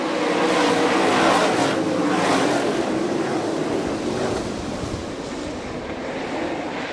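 Sprint car engines roar as they accelerate out of turn 4 at a dirt oval in Fremont, Ohio, a dense, distant, wind-buffeted wash of engine noise that swells and slowly eases.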